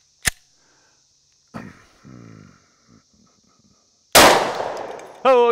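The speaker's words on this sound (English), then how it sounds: "I'm going to try to shoot on the other side of the block" Glock pistol fired into a test block: one sharp broadband crack near the start, a second impulsive burst later that rings and decays, with quiet gaps and faint handling noise between.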